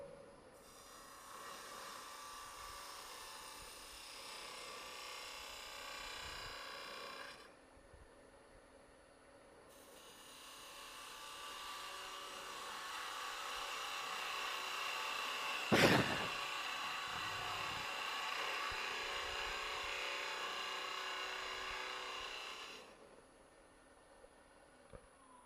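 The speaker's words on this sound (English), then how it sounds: "So I'll clean up the bottom first with the slicing cut." Skew chisel taking slicing cuts on a spinning wood lathe, shaping the bottom of a small turned tree with a finial; a steady broadband hiss of shaving wood that pauses briefly and resumes, with one sharp tap midway.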